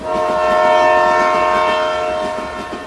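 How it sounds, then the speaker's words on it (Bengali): A train's horn blares in one loud, sustained, steady tone for nearly three seconds, with faint rolling rail noise underneath, used as an effect in a Bengali horror audio story about a midnight train. "আমি ও আমার অ্যাসিস্ট্যান্ট ড্রাইভার হর্ন দিয়েছিলাম"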